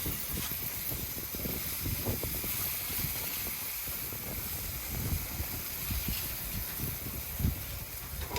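Steaks sizzling on a backyard barbecue grill give a steady, loud hiss with crackle that runs unbroken the whole time, close by and without voices.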